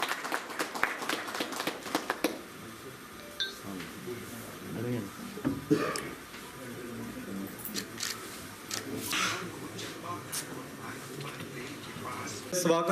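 Audience at a postal division ceremony in Chamba for a handicraft special cover claps in a scattered burst for about two seconds, then people talk in the room.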